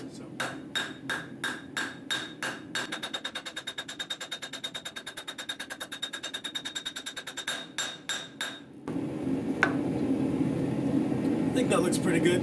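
Hammer forging and tapering a steel throwing star, with rapid rhythmic ringing metallic blows on an anvil in quick bursts, then a pause and a duller hiss with an occasional clink.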